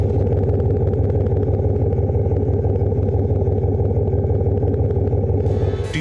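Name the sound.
GMC vehicle engine rumble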